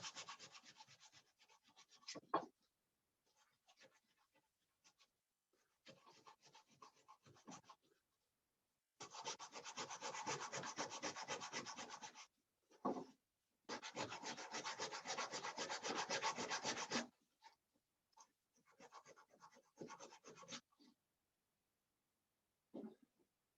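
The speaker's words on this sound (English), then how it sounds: "You can sand it however you want." Sandpaper rubs across a wooden coin vault in bursts of scratchy strokes, some short and sporadic, others long rapid back-and-forth runs lasting several seconds, close and fairly quiet with silent pauses between.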